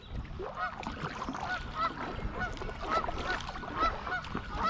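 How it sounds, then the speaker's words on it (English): Canada geese honk repeatedly in a busy, overlapping chorus, fairly close and continuous, heard from the water below a dam while kayaking. "we got the honkers"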